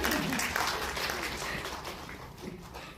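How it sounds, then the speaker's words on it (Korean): Applause at a Korean film press conference, a dense wash of clapping from a room full of people that starts strong and gradually thins out. "네. 이제 박수를."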